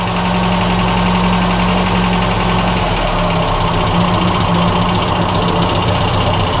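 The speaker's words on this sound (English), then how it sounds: "push the choke all the way in and see if she idles?" A 1.1-litre engine in a Mk1 Ford Fiesta Ghia idles steadily after a cold start on its choke. The loud, continuous low rumble changes pitch slightly partway through, with no talk over it.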